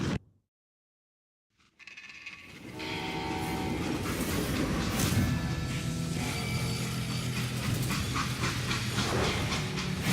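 A freight train in the Western video game Call of Juarez Gunslinger rumbles loudly after a brief silence, with a steady heavy roll, rattling wagons and a horn tone riding on top.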